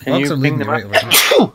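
A person sneezes once, a sharp burst near the end of a short stretch of speech in a Monster Hunter World voice chat, close and loud after the talking.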